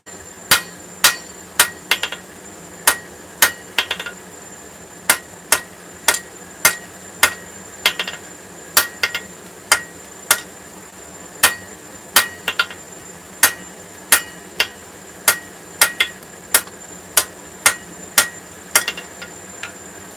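Hammer blows flattening hot metal while forging a wizard figure, a steady series of about thirty sharp ringing strikes at an even pace, loud and close with no talk.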